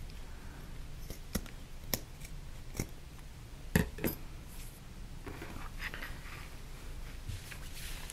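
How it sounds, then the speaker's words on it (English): Scissors snip through fabric and zipper tape on a purse-backpack project, a handful of sharp isolated cuts spaced about a second apart, close and fairly quiet, with soft handling noise between. "I'm going to get my scissors, and I'm going to trim this zipper here and this zipper here."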